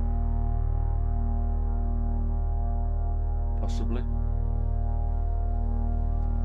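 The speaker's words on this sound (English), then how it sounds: "Should bring a bit of white noise in." A synthesizer drone holds a steady low, harmonic-rich hum with a faint hiss of added white noise layered on top, and someone speaks briefly over it midway.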